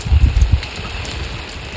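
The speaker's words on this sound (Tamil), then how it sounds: "சரியான மழை, வெளுத்து வாங்குது" Heavy rain pours down on a misty hillside town near a church, with closed doors along the street, a steady dense hiss with a few louder thuds at the start.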